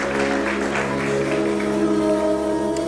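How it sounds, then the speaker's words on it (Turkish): Applause from the audience at a Turkish science and ideas festival final as a high school team comes to the stage, a steady dense wash of clapping with a constant tonal hum underneath. "Alkışlarla geliyorlar."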